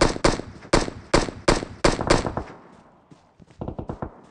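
Rapid bursts of gunfire from the video game PUBG Mobile, several sharp shots in quick succession, then a short lull before more scattered shots close by.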